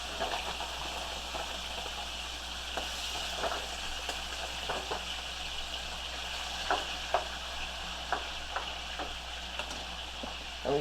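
Peeled, deveined, tail-off shrimp, a pound of them, sizzle steadily in a hot pan, a constant frying hiss with occasional soft pops and clicks throughout, no talking.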